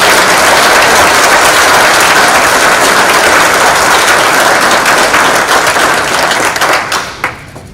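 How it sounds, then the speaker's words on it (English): Audience applause at a Coast Guard innovation awards ceremony, a loud, dense, steady wash of many hands clapping that fades out in the last second. "Let's give them another round of applause."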